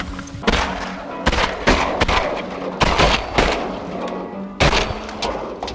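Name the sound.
gunshot while duck hunting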